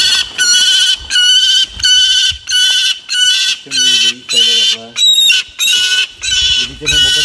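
A captive falcon at a falconer's place calls in a loud, close series of about a dozen harsh, repeated cries, each roughly half a second long and evenly spaced.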